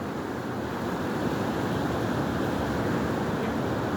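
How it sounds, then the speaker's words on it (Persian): Sea waves wash onto a beach with fishing boats and small cabins nearby, a steady, fairly loud surf roar with some wind noise against the microphone and no voices. "صدای موجهای دریا رو."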